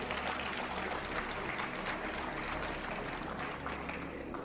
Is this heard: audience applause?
yes